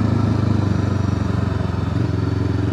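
An FKM ARY 500 motorcycle's engine thrums steadily while cornering, a loud, close, even pulsing drone with a slight mechanical clatter, no voices.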